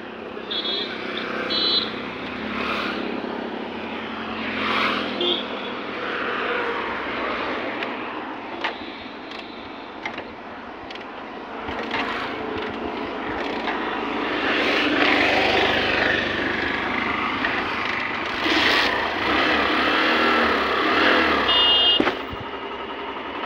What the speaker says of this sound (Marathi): किकने स्टार्ट करून बघू आपण